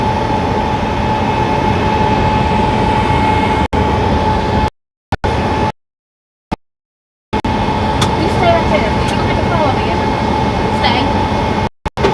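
A BNSF freight train with a distributed power unit locomotive rumbles steadily nearby, a continuous loud roar broken by a few abrupt dropouts midway.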